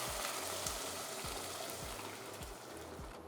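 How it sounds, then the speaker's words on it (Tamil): Cooked Andhra pappu of lentils stirred into a pan of hot curry-leaf tempering, giving a steady, dense sizzle and frying hiss with faint stirring scrapes throughout. "நம்ம ஏற்கனவே ரெடி பண்ணி வச்சுருக்கிற பப்பு இதில் மிக்ஸ் பண்ணிடலாம்"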